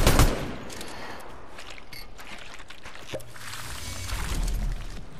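Gunfire in a first-person shooter video game, with a burst of shots right at the start followed by scattered, softer shots and impacts over a steady background of game noise.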